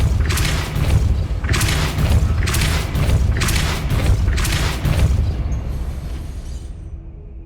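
A Depulso force spell is cast in Hogwarts Legacy, heard as a series of loud, booming, explosive bursts that repeat in a steady rhythm before tapering off into quiet.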